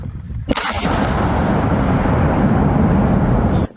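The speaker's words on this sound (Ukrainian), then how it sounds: "Вибух!" A sudden loud landmine blast bursts out in a mined field in Kharkiv Oblast, Ukraine, followed by a long rumbling roar that rolls on for a few seconds before cutting off.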